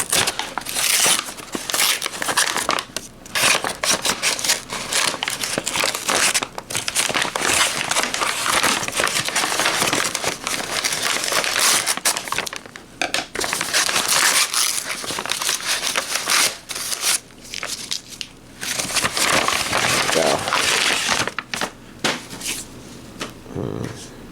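Scissors cutting and tearing open the plastic packaging of an anime Blu-ray, with dense crinkling, crackling and rustling throughout, loud and close, with brief pauses and no speech.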